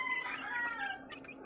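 A mother hen clucks softly in a short burst of low, throaty calls, fairly close and quiet, with faint ambient noise around her.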